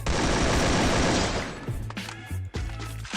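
Sustained rapid M4A1 automatic fire in Free Fire, loud and dense for over a second, then breaking into short separate bursts and single shots.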